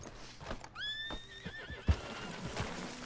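A horse whinnies in Red Dead Redemption 2, a clear rising neigh with a wavering tail, mid-distance over quiet ambient game sound and faint hoof thuds.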